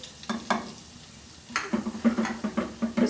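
A spoon scrapes rhythmically across a pan as garlic and a tablespoon of flour (maida) toast in a tablespoon of oil for a white sauce, the strokes quickening over a soft sizzle.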